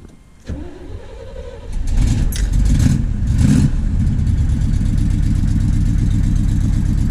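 A 1979 Corvette with its idle just lowered cranks briefly, fires and catches, then settles into a loud, steady, rumbling idle close by.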